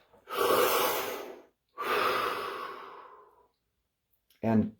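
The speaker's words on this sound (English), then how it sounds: "Deep breath." Two long, deep breaths, each a drawn-out airy inhale or exhale lasting about a second and a half, close and clear against silence, followed by a short sharp intake at the end during a guided scanning session.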